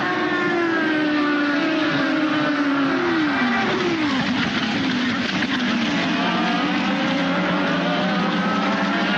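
Indy cars racing at the 2010 Alabama Grand Prix, engines screaming loud and continuous with Doppler pitch sweeps as cars pass close by, no talk over the roar.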